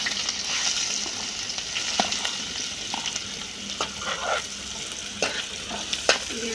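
Chopped onions sizzle loudly in a pan of oil and toasted cumin over a high gas flame, a steady crackling hiss broken by sharp clinks and scrapes of a stirring spoon.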